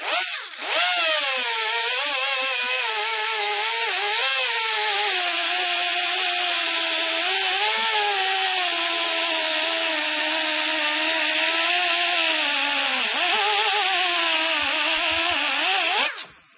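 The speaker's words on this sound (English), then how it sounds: "Take the die grinder." A pneumatic die grinder cuts through a fan shroud during a VMAC VR150 install, a loud, steady high-pitched whine with slight pitch wavering held throughout, spinning up at the start and cutting off at the end.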